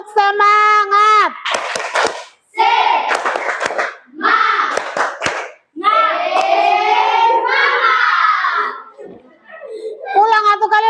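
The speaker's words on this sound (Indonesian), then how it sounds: "Tepuk semangat." A class of students performs rhythmic spirit clapping in bursts, sharp patterned claps mixed with loud chanted voices, with short pauses between rounds.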